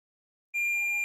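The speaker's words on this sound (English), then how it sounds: "now it's beeping" A single electronic beep sounds from an X Station ODE board after a solder repair, a clean, steady tone that starts abruptly halfway in after silence and holds to the end.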